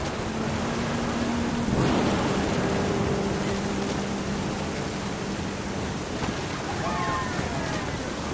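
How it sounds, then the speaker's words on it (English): Rumbling thunder and steady rain from the video game What Remains of Edith Finch, a broad continuous wash of storm noise with a louder thunder swell early on, joined by faint tonal music. "The thunder sounded much too close and full of angry power."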